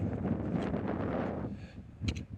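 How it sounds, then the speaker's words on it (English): Steady low rumble of wind buffeting the microphone at a high point near the Imperial Mine in Utah, fairly loud and continuous, easing slightly toward the end, with a brief gust near the finish. "It's pretty windy up here."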